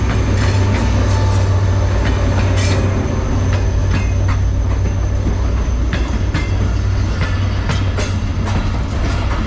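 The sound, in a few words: Millat Express train arriving at Shorkot Cantt railway station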